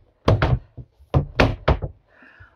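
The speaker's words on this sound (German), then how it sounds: "um die Duschkabine, die Wand, die wird hier so rangezogen" The wall of a shower cabin in a Rapido 8066df motorhome being pulled shut, a close series of loud hollow knocks and thunks from the panel, then a faint scrape, with no talking.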